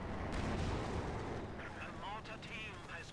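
Mortar and artillery fire in Company of Heroes 2 gives a dense, continuous rumble of heavy booms and blasts, loud and sustained, with a voice faintly present beneath.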